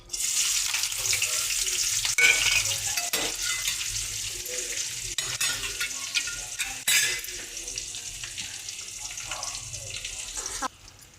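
Onion fries in a pan for beetroot palya with a steady, close sizzle that runs the whole time. It is broken by a few stirring clicks and scrapes.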